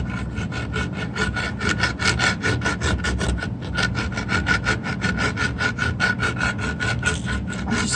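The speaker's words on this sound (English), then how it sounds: "all I'm going to do with this is grab a rasp again and get the edges of the pot" A hand rasp files the rough edges of a hypertufa plant pot in quick, even back-and-forth strokes, a steady scratchy grating that runs throughout with no talking.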